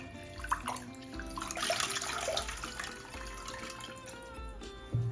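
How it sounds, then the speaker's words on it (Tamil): Rice being rinsed and kneaded by hand in water inside a vessel, a steady close sloshing and splashing of water with grains swirling, continuous for several seconds without any talking. "அரிசியை இந்த பாத்திரத்தில் போட்டு நம்ம 2-3 தடவை கழனி பிசைஞ்சு எடுத்துக்கிடுவோம்"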